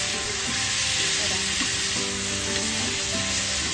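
A shawarma roll sizzles and fries in a pan on a gas stove, a dense steady crackle with occasional stirring or turning noises, close and continuous.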